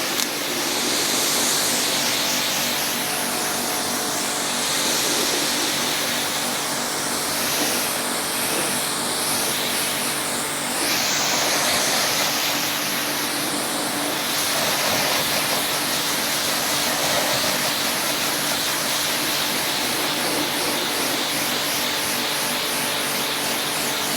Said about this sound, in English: I'm going to jet wash this panel off and that panel with a jet washer